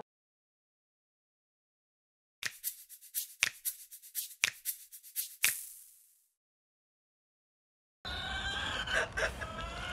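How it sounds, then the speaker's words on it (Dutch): Chickens and other poultry outdoors give a handful of sharp, separate clucks and calls over a couple of seconds, fairly close and otherwise quiet, followed later by a burst of broader rustling noise. "Vanaf vandaag mogen kippen en ander pluimvee weer naar buiten."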